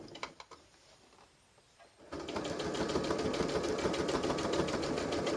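Sewing machine stitching over elastic on homemade oven gloves sewn from old sofa fabric, a steady fast rattling hum that starts after two seconds of quieter handling and runs on continuously and close.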